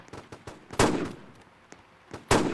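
Sniper rifle shots in the Roblox PUBG Mobile video game: two loud, sharp cracks about a second and a half apart, with a few softer clicks and handling noises between them.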